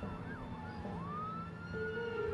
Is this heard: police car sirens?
yes